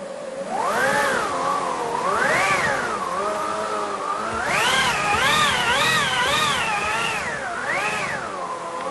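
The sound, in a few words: aeoliphone wind machine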